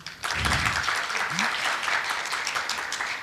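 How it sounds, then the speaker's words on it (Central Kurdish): Audience applauding at a Pshdar cultural and arts event, a steady, dense clatter of many hands that fills the space from start to finish and stays loud throughout. "سوپاس چەپڵەکانتان، دەستان خۆش"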